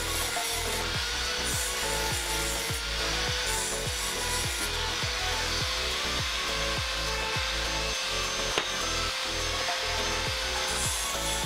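Steady rhythmic filing or grinding strokes on the cut ends of steel sections, loud and close, repeating at an even pace about twice a second throughout while building a steel and wood furniture piece.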